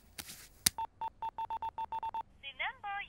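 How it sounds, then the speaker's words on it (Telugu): A telephone keypad beeps out a quick run of about eleven evenly spaced dialing tones after a sharp click, followed by a short burst of warbling tones. "అరే వాడికి ఫోన్ చేయరా."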